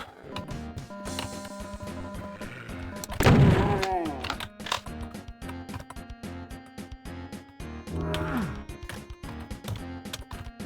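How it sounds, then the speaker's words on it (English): A chain gunner firing in a video game, with a loud burst of heavy gunfire around the middle and a second, weaker burst later, set against a steady game soundscape. "I heard a chain gunner over there somewhere"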